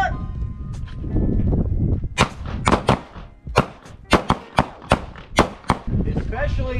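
Pistols fire at the Sacramento Valley Shooting Center range: after a stretch of talk, about a dozen sharp, loud shots crack out in a quick, uneven string, with voices heard around them.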